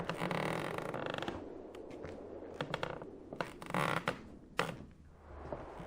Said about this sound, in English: Each step, the floor creaks and groans.